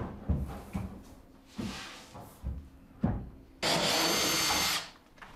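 Drill driving screws to fix the sliding-door rail of a built-in wardrobe, several short bursts followed by one longer, louder whir, close by with small knocks of wood in between.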